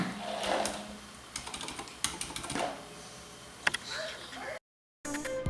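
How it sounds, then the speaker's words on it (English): Typing on a Corsair Strafe RGB keyboard with Cherry MX Silent switches, a soft muted patter of keystrokes in quick bursts, close up, broken by a brief silent gap near the end. "Here's a quick sound test of the Cherry MX silent switch."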